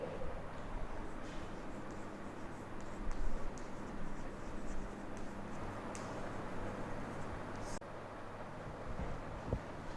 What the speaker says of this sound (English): I will write these questions on the board